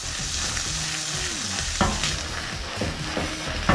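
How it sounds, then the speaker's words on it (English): Shrimp scampi sauce bubbles and sizzles in a pan while being stirred, a close, continuous fry with utensil scrapes and a few sharp clinks against the pan. "Keep stirring this up a little bit."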